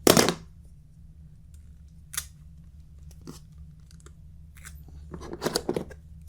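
Scissors cutting Scotch tape at close range: a sharp snip at the start, then a few faint clicks and crinkles, and a brief rustling cut near the end, with no talking.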